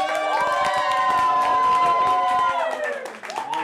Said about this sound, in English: Everybody give a round of applause for Stark.